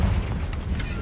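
A Confringo fire spell detonates in Hogwarts Legacy, producing a single deep, rumbling boom with a short crackle on top. It is close and heavy and stays low throughout this brief moment.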